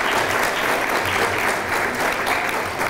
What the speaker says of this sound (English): Would you all give her a round of applause for her patience?